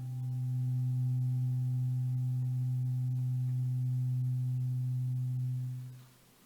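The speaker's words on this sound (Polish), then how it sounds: "jest to kamerton słońca" A tuning fork gives a steady, pure low hum that rings continuously and evenly for several seconds, then fades out near the end.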